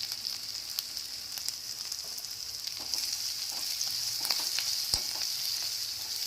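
Onions fry in a pan for a chicken and chana dal curry as turmeric is added, giving a steady close sizzle with faint scattered stirring taps and no talking.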